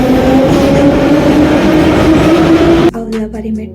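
A Tbilisi metro train runs loud and close, a sustained roar with a steady rumbling hum, then the sound drops off abruptly near the end as clatter and faint voices take over.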